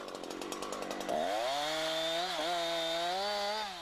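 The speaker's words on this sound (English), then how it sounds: "Branches on the upper side of the trunk can be cut with the saw lying on its side." A Husqvarna chainsaw limbs branches off a felled trunk while lying on its side, idling unevenly for a second before revving hard into a loud, close, steady whine as it cuts, with pitch dipping under load.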